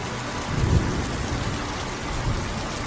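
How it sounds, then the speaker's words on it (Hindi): Heavy village rain pours steadily as a dense, unbroken hiss, with low thunder rumbling underneath early on and again briefly later. "बारिश और तेज हो गई।"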